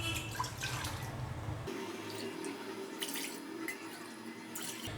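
Two and a half cups of water are poured into a pressure cooker, a soft, steady splashing stream that shifts in tone partway through as the level rises. The sound is quiet and close, with no voices.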